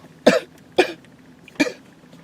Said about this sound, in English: had a little bit of a cough there